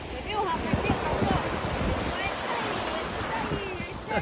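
Calm open sea at a beach about 20 km from Natal, with a continuous soft wash of surf and wind rumble on the microphone, steady and moderately faint with no clear speech over it.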